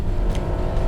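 Loud, steady engine roar from a 2019 Dodge Challenger R/T Scat Pack running hard on a race track hot lap, a continuous low rumble with no pauses.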